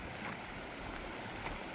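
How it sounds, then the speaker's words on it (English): A babbling brook on a hiking trail near Nambe Falls, New Mexico, flowing water with a steady close rushing and gurgling wash, alone and uninterrupted. "Nice walk along the brook here"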